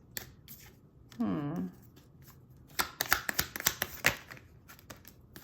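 Tarot cards shuffled and drawn up close: a rapid riffle of crisp paper flicks, then a run of sharp snapping taps as cards are handled, with a short burst of speech between.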